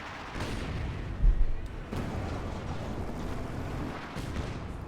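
Gunfire and artillery boom in a Company of Heroes 2 match, a continuous battle din with a heavier blast near the start and repeated impacts underneath.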